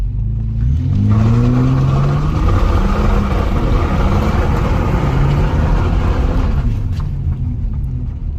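A 1994 Lexus GS300 with automatic transmission pulls hard in first gear with traction control off, its engine note rising steadily in pitch as it revs up loud and close, sustained without a break.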